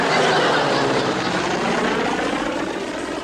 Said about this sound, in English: unidentified plane at 9 o'clock